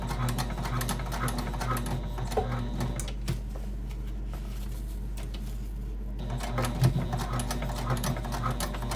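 A sewing machine runs back stitches in a steady mechanical whir with rapid needle ticking and a low motor hum, pausing briefly midway before resuming, close and alone.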